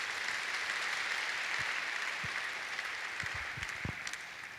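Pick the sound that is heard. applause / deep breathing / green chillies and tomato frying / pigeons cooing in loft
applause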